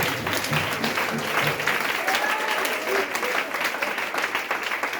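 A church congregation breaks into sustained applause, a dense wash of clapping that runs steadily and loudly from start to finish, with some voices mixed in underneath.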